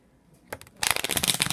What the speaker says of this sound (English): And then you put the rest of the deck on it and say, we'll give it a quick shuffle.